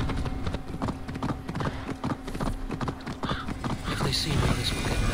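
A galloping horse in Assassin's Creed Valhalla pounds out rapid rhythmic hoofbeats under a steady game hum, with faint neighing and background noise rising toward the end.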